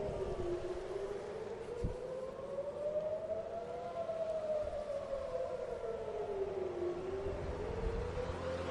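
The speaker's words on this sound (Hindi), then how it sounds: "ये टेल अवीव है, सायरन्स बज चुकी हैं" A civil defense siren wails in long, slow rising and falling sweeps in Tel Aviv, loud and steady over a noisy outdoor background, with no talk.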